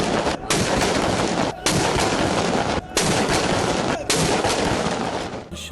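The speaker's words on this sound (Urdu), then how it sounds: "پاک فوج کے دستوں نے اسلام آباد میں 31 اور صوبائی دارالحکومتوں میں 21 توپوں کی سلامی دی" Pakistan Army troops fire an artillery cannon salute, heard as a series of loud, booming blasts spaced about a second apart, each one filling the air with sustained rumble and crackle.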